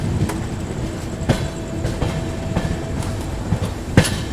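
The 12141 Patliputra SF Express runs with a steady rumble and rhythmic clickety-clack of wheels over rail joints, close and continuous.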